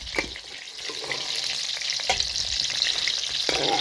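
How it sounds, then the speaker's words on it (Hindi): Mushrooms frying in oil in a pan give a close, steady sizzle with intermittent scraping and stirring clicks, loud and continuous with no talking. "ये मशरूम अच्छे से फ्राई हो गए हैं।"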